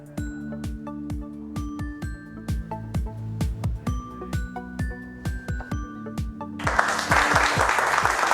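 A studio audience at a Kurdish TV quiz show bursts into applause, a broad clapping wash that rises at the end after a run of chiming musical notes.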